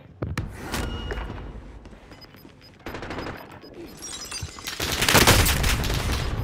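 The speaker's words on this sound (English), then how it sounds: "he hit me with a grenade launcher" Grenade launcher and gunfire in a first-person shooter video game: loud repeated bursts and heavy booming blasts, with a dense, intense stretch near the end.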